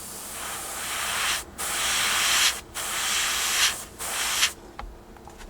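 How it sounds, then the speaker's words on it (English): An airbrush or spray can hisses over a scratch on a 1/48 scale Tamiya P-51D Mustang model in four light passes, each a close steady spray broken by brief pauses, ending in quiet handling noise. "Take your time, nice light passes, just get that mistake nicely sprayed back in."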